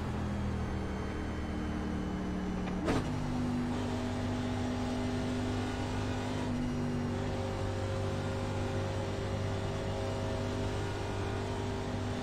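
A NASCAR Cup car engine drones steadily in the iRacing simulator at New Hampshire Motor Speedway, holding a sustained tone with a brief shift in pitch early on, loud and continuous without talk.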